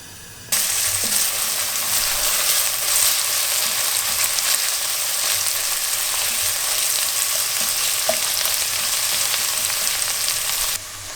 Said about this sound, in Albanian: Ja qesim vaj, pak vaj sa për me fërgu qepën.